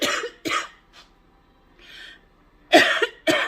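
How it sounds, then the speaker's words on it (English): A person coughs in a quiet room: two sharp coughs, a short throat sound and a breath, then two more loud coughs close to the microphone. "Bad cough day."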